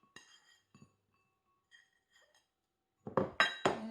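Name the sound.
mixing ingredients with mirin for takikomi gohan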